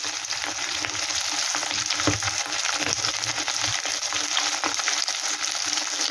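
Capsicum frying and being stirred in a pan for chilli jackfruit: a loud, steady sizzle with scraping stir strokes throughout, close up and with no voices.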